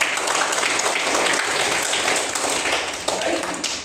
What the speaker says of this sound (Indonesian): kita kasih aplaus buat teman kita.